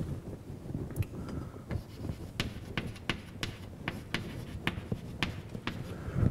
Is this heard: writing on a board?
yes